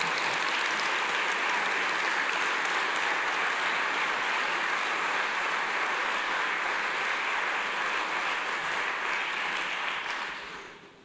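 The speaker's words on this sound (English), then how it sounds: "Would you please give our TOs a huge round of applause" An audience at a fire academy recruit graduation ceremony gives a long, sustained round of applause, a full, even wash of clapping that fades out at the end.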